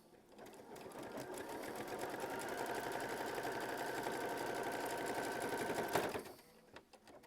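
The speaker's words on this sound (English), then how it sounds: "it's going to sew machine stitch step 11 to tack that down" A sewing machine runs a continuous burst of stitches tacking down a quilt block, a steady rapid mechanical whir close by that stops abruptly near the end, followed by a few faint clicks.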